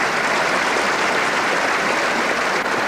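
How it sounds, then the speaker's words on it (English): Applause at a 1980 World Indoor lawn bowls championship match follows a fine shot, a steady, full crowd clapping from an indoor arena that holds evenly for three seconds with no voices. "Philip Chok applauding a superb shot by David Bryant"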